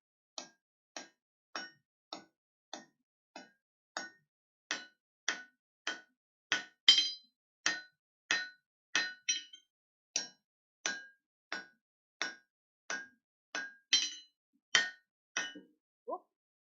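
Hammer blows ring out on a san mai steel knife blade over an anvil, about two dozen sharp, evenly paced clanging strikes, close and loud, with no talking.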